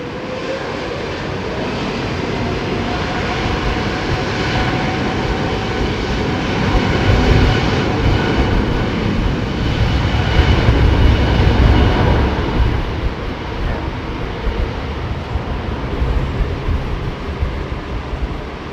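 A Qatar airliner with Rolls-Royce Trent 800 engines lands at Heathrow on a windy day, and its loud, continuous broadband engine roar swells to a peak midway before easing off.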